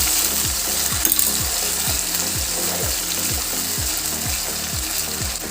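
Chopped tomatoes fry and get stirred in a pan for a fish and bamboo shoot dish, a steady close sizzle broken by regular scraping strokes of the spoon at a quick even rhythm.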